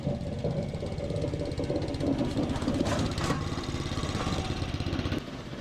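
A reel mower fitted with a scarifier attachment rakes across a lawn, giving a steady, close mechanical drone with a rough, knocking texture that drops slightly at the very end.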